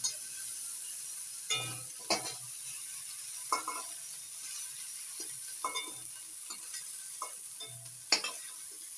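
Prawns sizzle in hot oil in a pan while being stirred, a steady hiss broken by roughly a dozen close scraping stir strokes spread across the clip, with no talking.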